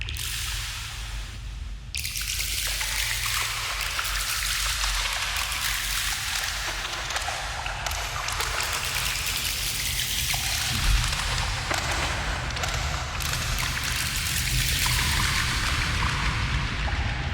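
Splashy, watery textures from an Ableton Delay effect shimmer and trickle continuously, smeared by echoing repeats into a wash of droplet-like sound.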